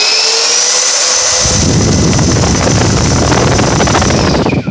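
Twin 70mm electric ducted fans on a radio-controlled model business jet spool up from silence into a loud, steady whooshing roar with a high whine on top, close by and holding at partial throttle.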